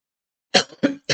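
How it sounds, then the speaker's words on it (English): Three short, sharp coughs from one person come in quick succession after a brief silence, close and fairly loud. "I still got a bit of a cough here"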